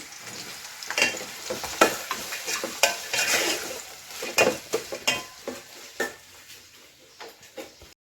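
Thinly sliced onion frying in a pan, crackling under repeated scraping and clinking stirs of a utensil against the metal, close and uneven with bursts of activity.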